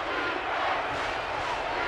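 Stadium crowd at a college football game, Ball State at FAU, roaring in a steady, dense wash of cheering that holds loud and unbroken throughout.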